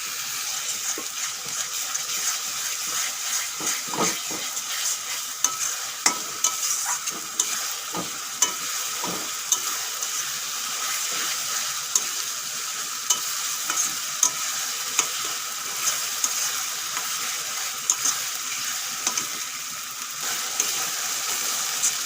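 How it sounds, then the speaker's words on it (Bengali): Ginger-garlic paste fries with lightly browned onions and whole garam masala for a mutton curry. The pan gives a steady, bright sizzle close by, with repeated scrapes and taps from a stirring spoon, and no voices are heard. "পেঁয়াজ অল্প ভেজে নিয়েছি এখন দিয়ে দেবো আদা রসুন বাটা"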